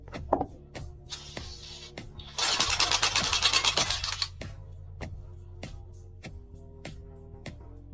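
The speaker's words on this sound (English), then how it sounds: "Start the engine and see if it can be cleaned." A Honda CRF125F pit bike engine cranks and catches, a burst of rough revving that settles into a steady idle, close and alone.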